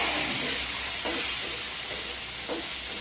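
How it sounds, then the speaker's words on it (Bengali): Food stirred in a cooking pot over heat: a steady sizzling hiss with a few soft scraping strokes of the spoon, close and moderately quiet, and no talking. "নাড়াচাড়া করে দিচ্ছি।"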